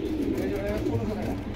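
Racer pigeons coo softly in low, throaty bursts at a pigeon market in Keraniganj, Dhaka, while a person talks over them nearby.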